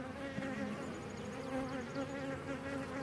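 Honey bees swarming around an opened package hive and over a hand, a steady close, dense buzzing drone with no talk.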